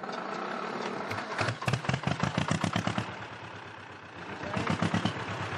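A vintage tractor engine runs close by, with a steady rumbling idle that breaks into a burst of rapid, evenly spaced firing pulses before settling back, then picking up again.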